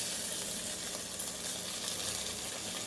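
Ginger garlic paste frying in hot oil for a chicken liver and stomach kosha, a soft, continuous hiss and sizzle with faint ticks, heard alone at low volume.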